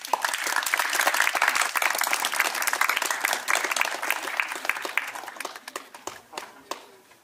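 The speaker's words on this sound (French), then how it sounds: "je pense qu'on peut applaudir Monsieur Bourel." Audience applause at a French lecture on modelling reality: dense, steady clapping from a crowd that holds strong for about five seconds, then thins out and fades to scattered claps.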